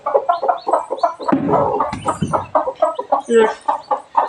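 A hen and her chicks are heard close by, with short repeated clucks and soft chick peeps in an uneven rhythm and a busier burst of clucking midway.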